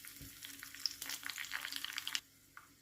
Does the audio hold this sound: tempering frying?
yes